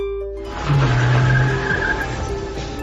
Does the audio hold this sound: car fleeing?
yes